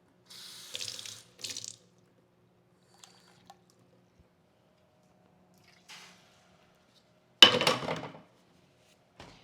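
Kitchen tap running into a sink to measure a quarter cup of water for an apple pie filling, two short gushes early on and a louder, fuller burst of flow near the end, with quiet gaps and small clinks between.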